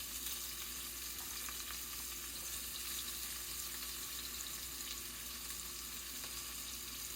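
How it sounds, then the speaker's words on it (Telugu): Fried onions, raw onions and chili sizzle in hot oil for chicken biryani, a constant crackling hiss close up with occasional stirring, no talking. "బాగా మరుగుతున్న ఆయిల్లోని ఫ్రైడ్ ఆనియన్స్ ఇంకా చిల్లీ ఇంకా కొంచెం నార్మల్ ఆనియన్స్ కూడా వేసుకోవాలి"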